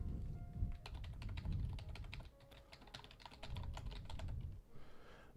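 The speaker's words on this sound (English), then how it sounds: "Am I typing in the name right?" Someone types quickly on a computer keyboard, producing a steady clatter of close, crisp keystrokes over a low background hum, with a short pause near the end.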